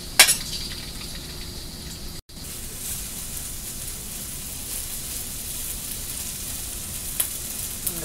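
Teriyaki chicken pieces sizzle and fry steadily in hot oil in a stir-fry pan, a dense continuous crackle with a brief break partway through and a light clink near the end.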